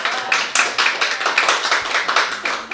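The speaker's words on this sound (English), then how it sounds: "Clap if you like all the wines." A small audience at a live podcast recorded in a wine bar claps together in a rhythmic pattern, about a dozen evenly spaced, loud, close group claps in under three seconds, with no talking.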